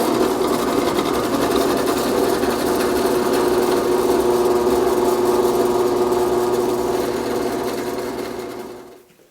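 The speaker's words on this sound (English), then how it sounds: "I'm going to go over to the drill press and go ahead and enlarge all these holes" A drill press runs steadily for several seconds, boring out a row of holes before a table saw zero-clearance insert is filled with epoxy; the motor whine holds loud and even, then spins down at the end.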